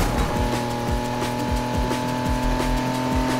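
Racing cars in Need for Speed Heat roar nonstop through a close race, with engine notes rising and dropping in repeated gear shifts and tire squeal mixed in, loud and continuous with no talk.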